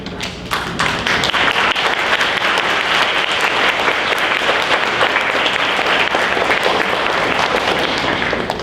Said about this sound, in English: let's all look at our teachers and let's give them a hand because they've done so much for you this school year